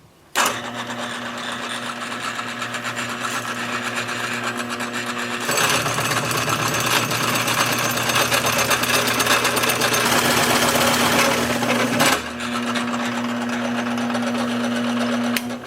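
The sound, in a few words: drilling a shallow hole in wood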